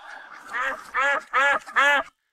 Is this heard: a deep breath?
no